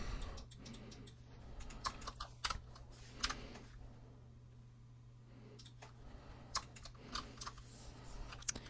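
Computer keyboard typing during a Blender sculpting session, scattered quick key clicks in small bursts with pauses, close and fairly quiet over a low steady hum.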